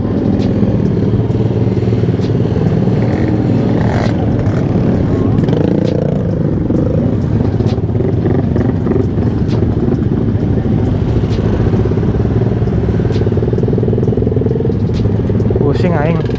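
Motorcycles and cars crawling in a traffic jam, a Yamaha Jupiter MX among them, with a dense continuous rumble of engines, occasional revs and clatter close by, and people talking over it.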